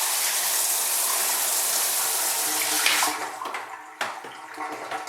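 Water runs steadily from a tap at a home care sink, a constant hiss that cuts off near the end, followed by faint handling clatter.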